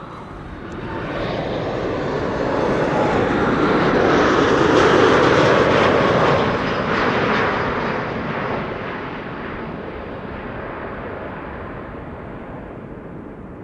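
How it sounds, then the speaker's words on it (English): An Icelandair Boeing 737 MAX 8 arriving from Reykjavik gives off a loud, broad jet-engine roar that swells as it passes overhead near the runway, then slowly fades into a lingering rumble. "This is Iceland Air, the MAX 8, arriving from Reykjavik"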